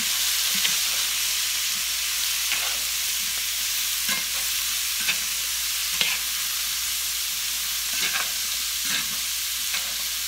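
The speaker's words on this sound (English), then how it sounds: "So I'm just going to dump this whole bag in here, and we're going to stir it up." Frozen broccoli stirred in a pan of hot rendered sausage fat for a broccoli and sausage stir fry, giving a steady close sizzle with repeated scraping stir strokes every second or so, no talking.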